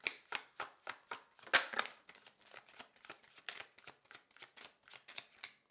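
Tarot cards are shuffled close up in a rhythmic series of soft, papery slaps and riffles, with one louder flurry early on.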